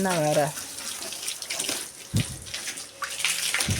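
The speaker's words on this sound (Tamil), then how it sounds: "இந்த ஸ்ப்ரே எடுத்து வேகமாக அடிக்கிறது" Pressurised water spray hisses steadily while washing a Yamaha XSR 155 motorcycle, a broad rushing wash with brief bursts, someone speaking over it at the start.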